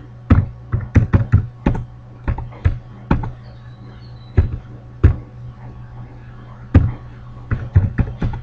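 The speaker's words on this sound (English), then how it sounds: "I'm going to type the command again" Keys on a computer keyboard tapped in short irregular bursts while a command is entered on a Windows Server 2012 machine, crisp and close with pauses between clusters over a faint steady hum.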